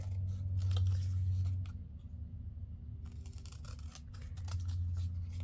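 Paper trimmed with scissors at a craft table while making cards: quiet, crisp snips and rustles over a steady low background hum.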